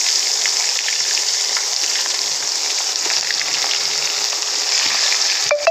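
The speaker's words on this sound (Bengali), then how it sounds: "কড়াই তেল গরম হয়ে গেছে পেঁয়াজটা ভেজে" Onions fry in hot oil in a wok, producing a continuous, fairly loud crackling sizzle with a dense spray of small pops that stays even from start to finish, with no voices.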